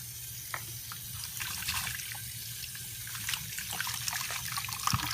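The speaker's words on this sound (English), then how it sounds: "And then fill up the water again" Water runs from a tap into a container of soaking cloth pads with a bit of OxiClean, a quiet steady trickle with light splashes and drips, close by and heard alone.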